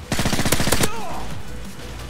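Rapid burst of MP7 submachine gun fire in Call of Duty Modern Warfare 3, loud and close, with a quick string of shots that cuts off and leaves a fading tail and a brief whine behind it.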